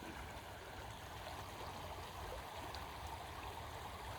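A Washington river flowing over rocks and gravel at a rockhounding spot, a soft, constant rushing wash with no breaks, faint and even throughout.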